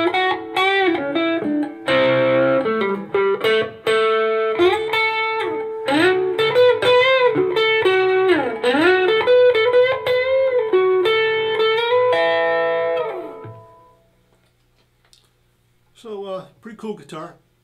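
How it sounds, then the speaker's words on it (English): An electric guitar played through a distortion effect rings out in loud, sustained chords and bends for most of the stretch, then cuts off into near silence before a short final burst. "Throw a little distortion on there"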